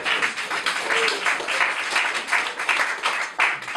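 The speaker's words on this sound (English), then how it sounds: "Give a round of applause to Dr. J." Audience applause at a live debate, a steady wash of many hands clapping at moderate volume for about four seconds, with a faint voice briefly audible underneath.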